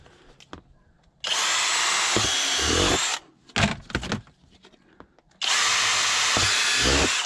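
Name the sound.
power drill boring tap holes in black walnut trees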